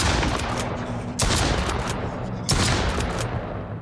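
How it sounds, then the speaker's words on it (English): Gunfire from a gun in the survival video game Mist Survival fires as a base is defended against a horde. There are about three sharp, loud shot bursts roughly a second apart, each with a rolling tail and dense noise. "I always miss with that darn gun."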